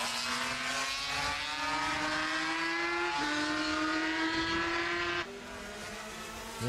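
A Rizla Suzuki racing motorcycle at a classic bike race meeting screams past at high revs, its loud whining engine note climbing steadily through two upshifts before dropping and fading as it moves away.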